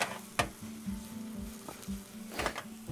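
Portobello mushrooms, garlic and red onions sizzle in a frying pan, a soft steady hiss broken by a few sharp clinks and scrapes of stirring, fairly quiet and close, with no talking.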